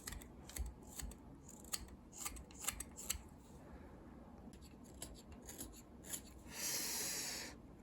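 Close, quiet scraping and rasping strokes of a carving knife and file shaping a small wooden netsuke, in irregular short bursts ending with a longer steady file stroke.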